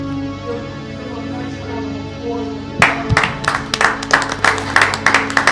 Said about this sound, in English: You guys, give a nice round of applause.